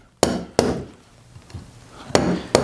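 Chisel and mallet chopping waste from wood held in a workbench vise for a treadle lathe frame: four sharp, loud strikes in uneven rhythm with a few softer taps between, close by.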